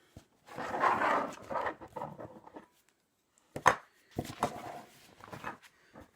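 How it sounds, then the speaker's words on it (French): A utility knife slices through cardboard during book-box cartonnage work in short scraping, crunching bursts, a longer cut followed by a pause and then several quicker strokes, close and fairly loud with no talk. "Prends le cutter. On coupe."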